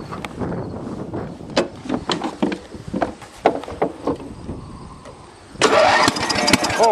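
An old lawn tractor engine, unused for many years, cranks in uneven bursts with the starter, then catches and fires into a loud, steady running roar near the end, heard close and with no talking.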